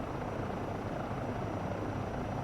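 A Eurocopter EC135 helicopter hovers in ground effect above a landing pad in Microsoft Flight Simulator 2024, its rotor and engine making a steady, loud, close whirring drone throughout with no talking.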